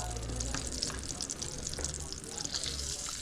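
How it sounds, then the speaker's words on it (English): Kangaroo sizzle steaks laid into hot oil and butter in a pan give a steady crackling sizzle with soft spits and pops, close up and continuous. "start grabbing some of these little sizzle steaks and just laying them in the oil and butter"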